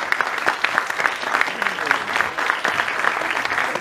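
An audience at a Marathi film trailer and poster launch for 26 November claps together in a hall, dense sustained applause filling the whole stretch with steady rapid hand claps, fairly loud and close.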